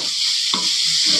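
Spices and vegetables fry in a kadai under a loud, steady hiss, with one brief scrape of stirring partway through.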